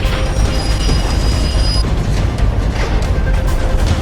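A train rolls along the rails with a dense, steady rumble and faint metallic wheel squeal. The noise stays loud and continuous throughout, with no voices.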